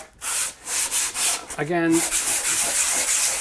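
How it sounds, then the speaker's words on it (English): Hand sanding a kitchen cabinet with 150 grit sandpaper held like a block gives rhythmic, close scratchy strokes in quick succession, with a brief spoken word over them. "the next step, of course, is to sand, and this is 150 grit, and I'm just going to go like this"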